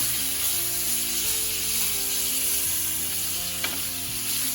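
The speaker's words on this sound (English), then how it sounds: "Now, it's about time to flip over the steak." A flipped steak sizzles loudly in a hot pan, a dense continuous frying hiss with a faint hum underneath and one brief crackle near the end, close and without speech.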